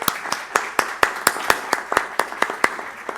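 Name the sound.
audience applause after a lecture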